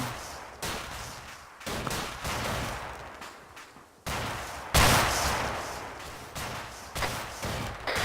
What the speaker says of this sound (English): There was just a grenade round shot at me